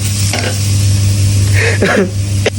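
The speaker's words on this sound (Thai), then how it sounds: "ต่อไปเราผัดไปเรื่อยๆนะครับให้หอมแดงสุก" Steady sizzling of shallots frying in hot oil for Burmese shallot chili paste, with occasional scraping and stirring sounds close by.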